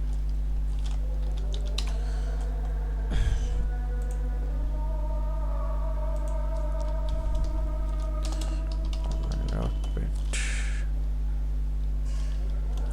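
Someone types on a computer keyboard to write an email, producing sparse, irregular key clicks over a constant low electrical hum, with a bird's caw in the background.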